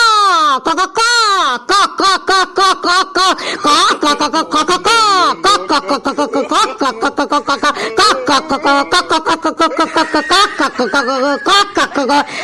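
A voice mimics a chicken, clucking in rapid, repeated syllables, loud and close, running on steadily for several seconds.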